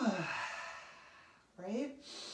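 A slow, deep breath drawn in and let out during a guided relaxation exercise, heard as one long airy sigh followed by a second shorter breathy exhale, close and soft.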